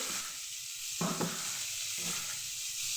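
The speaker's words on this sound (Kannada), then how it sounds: "ನೋಡಿ, ಸ್ವಲ್ಪ ಹಿಂಗೆ ಹುರ್ಕೊಬೇಕು ಎಣ್ಣೆಯಲ್ಲಿ" Chopped tomato, onion and coconut sizzling in hot oil for tomato chutney, a steady close fry with two brief louder bursts of stirring.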